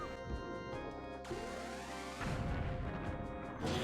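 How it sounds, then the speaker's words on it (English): A bomb explodes inside a boss's mouth in The Legend of Zelda: The Wind Waker, a loud booming blast that breaks through the layered game music midway and is followed by rumbling effects. "Throw a bomb within his mouth."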